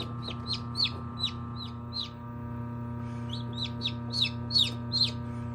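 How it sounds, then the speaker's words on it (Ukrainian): A newly hatched chick peeps loudly and repeatedly in high, sharp bursts inside an incubator, pausing briefly before another quick run of calls over the incubator's steady mechanical hum. "Якщо якийсь курчатко кричить в інкубаторі"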